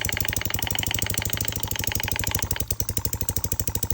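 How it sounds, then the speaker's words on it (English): A small Little Machine Shop 2243 oscillating model engine runs steadily, giving a fast, even mechanical chuff-and-tick rhythm, close and fairly loud, with no talking. "Here's the little oscillating engine that is on Little Machine Shop's website."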